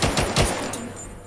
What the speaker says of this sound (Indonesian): Apa dia tuh kayak nembaknya terus gitu tanpa cooldown, maksudnya tanpa reload gitu loh